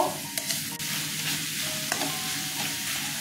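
Papaya curry with potato and peanuts being stir-fried in a pan, with a steady close sizzle and repeated scraping strokes of the spatula, a few sharper knocks standing out.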